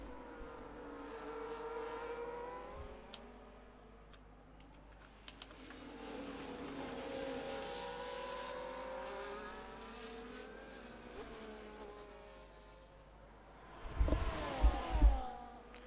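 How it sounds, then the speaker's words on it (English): Formula 1 cars in a racing video game at the Singapore Grand Prix whine past faintly under a background of keyboard typing. Engine pitches rise and fall as the cars pass, and a burst of sharp clicks comes near the end. "Smithy gets the fastest lap of the Grand Prix"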